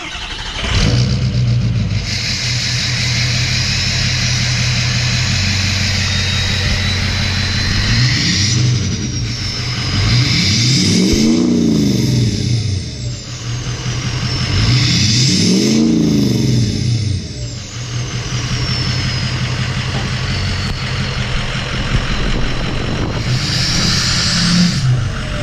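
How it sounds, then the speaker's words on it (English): A 6.0 Powerstroke diesel pickup truck engine idles with a deep rumble and is revved twice in rising and falling surges, then settles back to a steady idle. "Now he's going to give the truck a little bit of a start up here"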